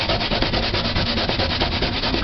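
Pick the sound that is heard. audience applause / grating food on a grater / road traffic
grating food on a grater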